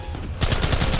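Rapid automatic gunfire in the Western video game Red Dead Redemption bursts in abruptly after a quiet moment, a loud sustained rattle of closely spaced shots continuing to the end.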